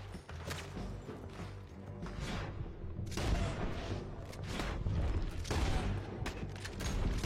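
Video game gunfire rattles in rapid repeated bursts over several seconds, dense and loud with sharp crashing impacts layered over a continuous low rumble.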